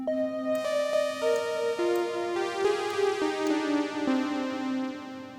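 A bright synth lead in Arturia Pigments, built from two triangle waves and one sine wave, plays a stepping melody of sustained, slightly buzzy notes with a smooth tone, steady and fairly loud throughout.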